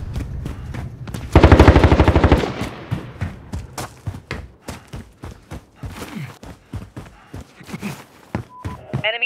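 Gunfire in Call of Duty: Modern Warfare erupts as a loud, close automatic burst, followed by a string of sharp single shots and thuds with mid-distance rattles between them.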